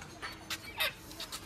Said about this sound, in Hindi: मुर्गा बहुत चिल्ला रहा है